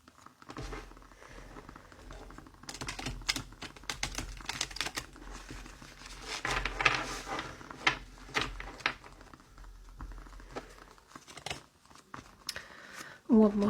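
A glossy, slippery stained-glass tarot deck is shuffled by hand, giving quiet, rapid crisp flicks and card riffles throughout, with soft speech at a low level.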